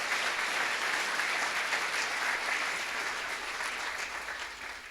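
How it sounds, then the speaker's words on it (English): Steady, sustained applause from an indoor crowd at a college senior athletics awards ceremony, moderately loud and continuous, fading slightly toward the end with no talking. "I just want a round of applause for all of you"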